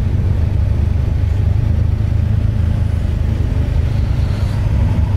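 A modified JDM Mazda creeping in at a cars and coffee meet, a steady low engine rumble close by, rolling slowly with no sharp revs.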